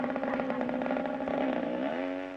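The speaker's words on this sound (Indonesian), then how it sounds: "suara motor itu motor juga ya?" A motorcycle engine drones close by in a steady buzzing run, its pitch shifting slightly toward the end.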